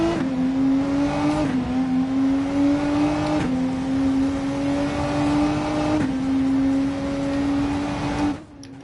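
Renault race car in Gran Turismo 7 at Daytona, its engine droning loud and steady, climbing slowly in pitch and dipping at several quick gear shifts before cutting off abruptly at the end.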